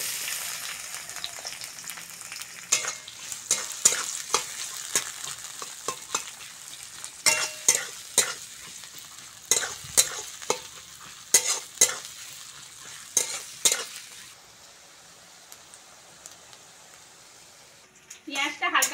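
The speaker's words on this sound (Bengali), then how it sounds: "পেঁয়াজটা হালকা করে ভেজে নিয়েছি" Chopped onion and whole cumin frying in mustard oil in a kadai: a steady close sizzle, broken by frequent sharp spatula scrapes and clicks against the pan, which quieten near the end.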